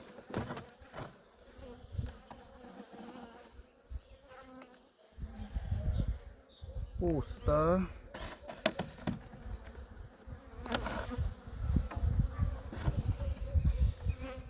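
Honeybees buzz steadily around an open hive during a colony inspection, a dense close-up hum with occasional louder passes near the microphone amid handling noises.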